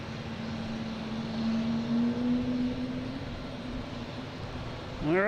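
An American Airlines Airbus A321 arriving at Boston Logan International Airport from Charlotte gives a steady, distant jet roar carrying a sustained humming tone, with a rising whine swelling right at the end.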